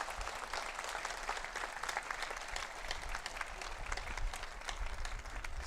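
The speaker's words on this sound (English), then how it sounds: "How about a big round of applause for all of you today?" An audience applauds on a sunny morning at the 8th convocation of Shoolini University, with a crowd clapping in a sustained, crackling round that stays even and moderately distant throughout.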